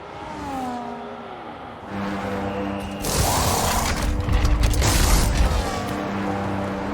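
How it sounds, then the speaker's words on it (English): Pit stop tyre change for Albon in F1 25: an engine idles and creaks, then a sudden burst of loud mechanical clatter and whirring wheel guns runs for a few seconds before settling into steady engine drone. "Albon pits for new tyres."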